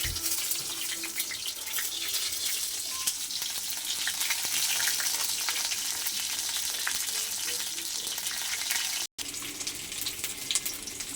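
Water lily fritters dipped in gram flour batter fry in hot oil with a steady, even sizzle and fine crackle, close and fairly quiet, broken by a short drop to silence near the end.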